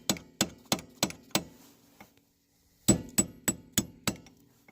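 Sharp, ringing metallic taps from a hammer on a punch seating a metal dust cap on a Honda Civic rear wheel hub: five quick strikes, a pause with one lighter tap, then five more in even rhythm.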